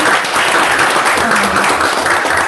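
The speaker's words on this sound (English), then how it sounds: "I'd like to give him a round of applause" A crowd applauding at a city council meeting, a dense steady wash of clapping lasting throughout at fairly loud level.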